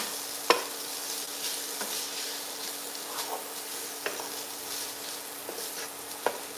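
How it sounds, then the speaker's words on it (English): Saltfish sautéing in a hot pan for a St Lucian Creole breakfast, a steady soft sizzle and crackle under scattered sharp clicks of a spoon stirring, with no talking. "I'm going to now add my saltfish. And we're going to saute that up."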